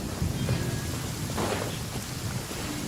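Rain falls in the video game Genshin Impact, a steady close hiss of downpour with a brief swell of heavier noise in the middle, no voices.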